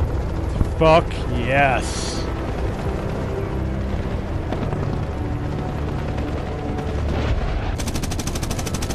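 Apache helicopter gunfire in the Medal of Honor video game, a steady loud roar of rapid firing under constant battle noise, with shouted voices over it.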